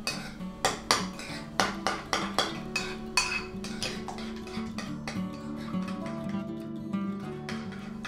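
Salad sauce with pressed garlic being stirred in a bowl, a spoon clinking and scraping against the dish in a regular rhythm of sharp knocks that softens into smoother stirring.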